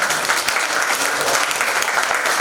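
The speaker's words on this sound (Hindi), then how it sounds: "ताली बजाते रहिएगा।" A theatre audience claps at the end of a Hindi stage play as the cast and crew credits are read, a dense, steady burst of applause from many hands, loud and close, with no break.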